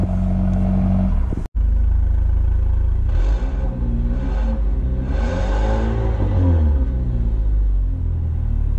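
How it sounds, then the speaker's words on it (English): A 2-liter turbocharged four-cylinder engine starting by remote start after a sharp click, cranking and catching with a rising rev, then settling into a steady idle rumble nearby. "hold the remote start button, and that 2-liter turbocharged 4-cylinder will start right up"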